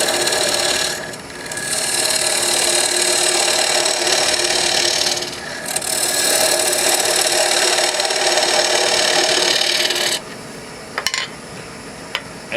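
Cocobolo spins on a wood lathe while an Ellsworth fingernail gouge cuts it, giving a steady hissing scrape with brief pauses and a low motor hum underneath, close and loud.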